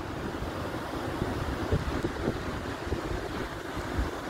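Big ocean waves crash and churn in very bad weather at a rocky surf break, with strong wind buffeting the microphone; a steady, loud, broadband roar with surging swells and no talking.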